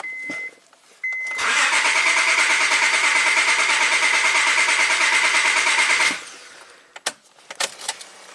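A Honda Accord V6 with a P0300 misfire cranks over in one steady, loud, whirring stretch of about five seconds, then cuts off, followed by a few faint clicks.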